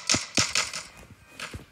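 Gunfire from a Roblox shooter game: a quick cluster of four sharp, close shots, then two more after a short pause, loud and dry over faint background game noise.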